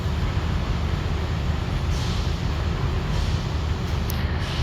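Steady low rumble of a southbound passenger train departing Hua Hin railway station in Thailand, continuous and fairly loud, with faint hiss and background noise throughout.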